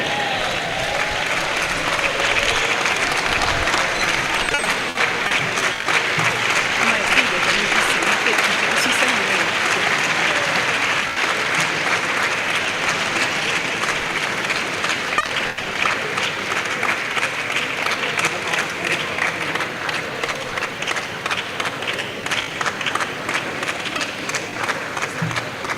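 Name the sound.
audience applause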